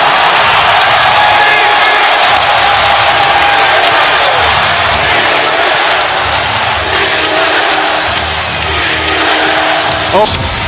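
A basketball arena crowd roars during an NBA playoff game between the Los Angeles Clippers and Utah Jazz, a loud, sustained wall of cheering and noise with occasional sharp thuds, while a commentator speaks over it.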